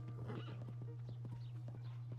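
Horse hooves clip-clopping steadily in the video game Zelda: Tears of the Kingdom, a regular trotting rhythm of close, crisp knocks over a constant low hum, with a faint whinny and no talk.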